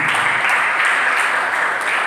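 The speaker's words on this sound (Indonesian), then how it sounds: "Berikan tepuk tangan bagi." Church congregation applauds together during a Sunday service, a steady, close, even patter of many hands clapping at full strength with no voices on top.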